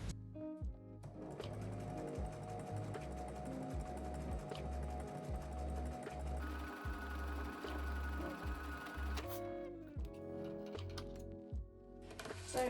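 A sewing machine stitches sleeves onto a t-shirt with a steady mechanical whir and rapid needle clatter, pausing briefly and changing pitch before resuming, close and alone.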